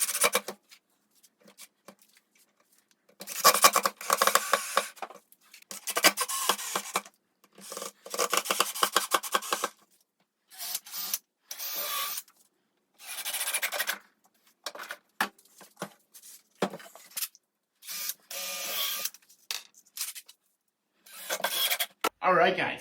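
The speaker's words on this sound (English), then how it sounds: "I just went ahead and sanded it." Sanding a wooden shoe rack built from framing lumber, loud raspy scrubbing strokes in bursts of several seconds separated by silent pauses, close up and without speech.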